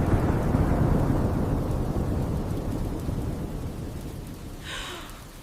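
Steady heavy rain pours throughout with rumbling thunder, loud and continuous, no voices present.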